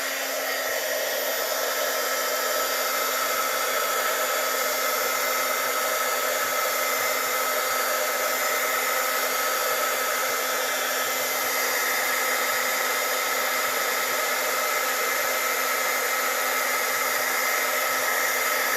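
A heat gun used to heat emboss ink on a card blows a continuous, even whir with a steady pitch, loud and close, running for nearly twenty seconds with no talk.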